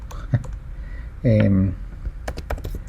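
Fruit names are typed on a computer keyboard into an Excel sheet: scattered light key clicks, sparse at first and then a quick cluster near the end, with a brief voiced sound from a person in the middle.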